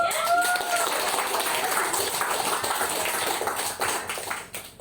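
Audience clapping at a motivational talk, a dense, continuous wash of applause from a crowd that holds steady and then fades toward the end.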